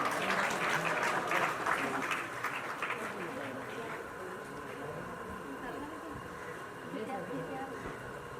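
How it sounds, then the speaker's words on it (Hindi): An audience claps at a retirement programme, a dense burst of applause for the first few seconds that then thins out and fades into a softer hum of the crowd. "इन सभी के स्वागत के लिए पुनः तालियां"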